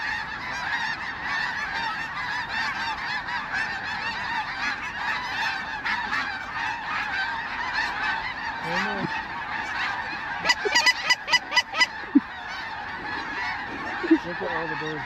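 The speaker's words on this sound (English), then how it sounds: "Look at all the birds up front." A large flock of geese honks continuously at a sandhill crane flyway, a dense, overlapping babble of calls. Several louder, nearer honks cut through in a quick series toward the end.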